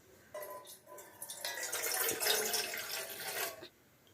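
Water pours steadily into a small tumbler for boiling tea, a close splashing stream that swells for a couple of seconds, then stops.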